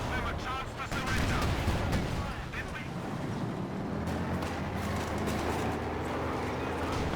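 Pak anti-tank guns fire in Company of Heroes 2 amid a Cromwell tank skirmish, heavy booming shots and rumbling battle noise layered under steady game commentary.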